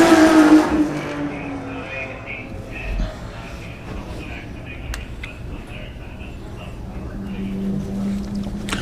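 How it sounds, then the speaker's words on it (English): A race car at a GTA season finals event at Buttonwillow Raceway roaring down the front straight at full throttle, the engine loud at first and then continuing as a fainter, distant drone with crowd ambience around it. "we're going to get to watch this car full song down the front straight."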